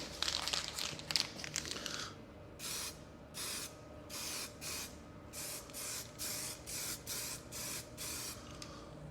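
Spray paint hisses onto an MGB car part in a run of short, even bursts. A few quick crinkly sprays come first, then regular one-second passes with brief gaps between them, close by with no talking.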